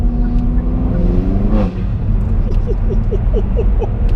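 A 320 bhp Hyundai i30N hot hatch engine revs and rises in pitch, then drops off before a series of quick rhythmic pulses as it climbs again, loud and close, with no talk over it.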